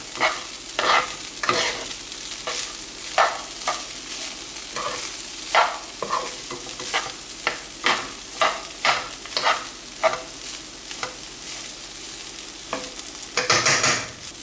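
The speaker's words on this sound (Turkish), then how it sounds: "Kuş üzümlerimizi atalım. Bir daha karıştıralım şöyle." Rice pilaf with currants and pine nuts being stirred in a pan: a steady run of distinct scraping, shuffling strokes against the metal, close and fairly loud, with a brief louder flurry at the end.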